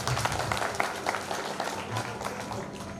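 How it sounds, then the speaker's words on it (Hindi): Applause from a seated gathering honoring a newly installed spiritual leader, a brief burst of many hands clapping at moderate loudness, somewhat uneven and fading slightly. "आप इनके सम्मान में भी एक बार जोरदार ताली बजाएं।"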